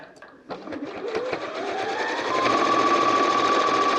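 A sewing machine topstitches homemade washable fabric wipes, starting with a few separate needle thumps and then settling into a steady, close mechanical whir that holds to the end.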